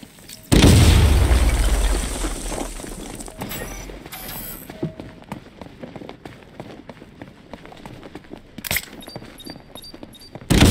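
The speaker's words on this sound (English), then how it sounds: "apply the explosive directly to destroy that wall" A heavy explosive charge blows out a wall in Batman: Arkham Knight, a loud deep boom with a long rumbling tail, followed by scattered debris clatter, mechanical clanks and a sharp burst near the end.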